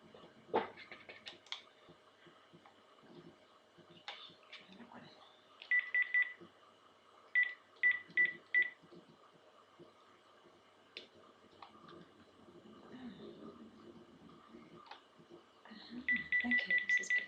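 Telephone keypad tones on a phone, in short bursts of evenly spaced beeps with pauses between them, under quiet speech and soft handling noise.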